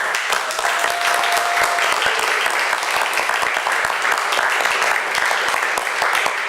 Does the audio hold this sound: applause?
yes